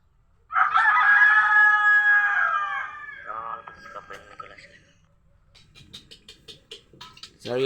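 A rooster crows loudly and close by, followed by softer chicken sounds and scattered clucking, with a sharp noise at the end.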